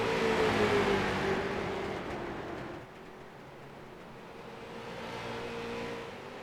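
Street stock race cars roar around an oval track during a heat race, a dense, steady engine drone with whining harmonics that eases slightly partway through as the pack sweeps past.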